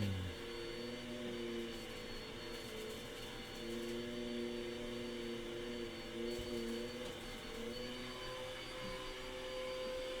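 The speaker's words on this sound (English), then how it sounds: "the vacuum's pretty loud" A vacuum cleaner drones steadily in the background, its constant motor whine holding an even pitch for the whole stretch, moderately distant and unbroken.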